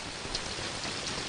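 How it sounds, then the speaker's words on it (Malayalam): Rain falling steadily, a soft, even hiss of drops on surfaces, fairly quiet and continuous with no voices. "ഈ മഴ കണ്ടോ?"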